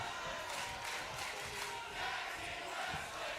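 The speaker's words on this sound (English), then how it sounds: "this crowd here at Soundstage 23 lighting up the place, chanting tag team wrestling" Arena crowd at Soundstage 23 in WWE 2K25 tag team wrestling, a steady broadband roar of chanting and cheering that holds loud and unbroken for the whole stretch.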